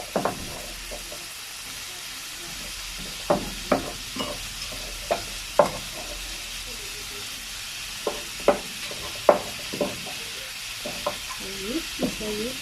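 Chopped chayote sizzles in a pan with tuna in a home kitchen, a steady frying hiss broken by a dozen sharp scrapes and clacks of a spatula stirring at irregular intervals, close and fairly loud.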